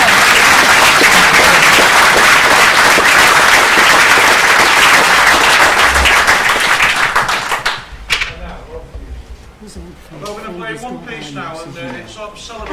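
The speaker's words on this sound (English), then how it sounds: "I'd like to give a little round of applause." A round of applause for staff and students fills a hall, loud dense clapping that tapers off after several seconds before a voice starts speaking.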